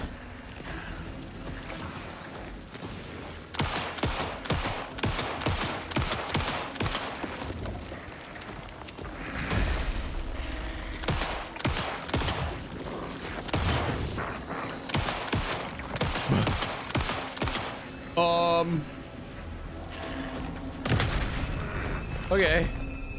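Gunfire in the Alan Wake 2 video game, a dense run of sharp bursts and booms over a busy in-game soundscape of water and ambience, with irregular clusters of shots and a voice speaking between them.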